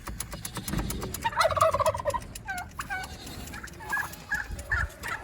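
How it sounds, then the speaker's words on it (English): Several turkeys gobble in a bursty, repeated chorus outdoors in the cold, loud and close at first, then shorter gobbles trailing off, with no talking. "Tell the turkeys to shut up."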